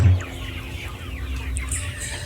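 Broiler chickens on a poultry farm cluck and chatter close up in a busy, overlapping flock, with a steady low barn hum underneath and no talk.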